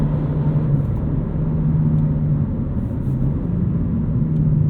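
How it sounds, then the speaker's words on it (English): Steady low engine rumble from a 2023 BMW M2 with a 6-speed manual, heard from inside as the driver lifts off the throttle, a droning, even tone with no talking. "So you can hear that a little bit of a bleh when you let off the throttle"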